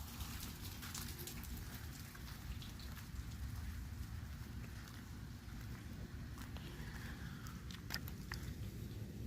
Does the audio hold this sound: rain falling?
yes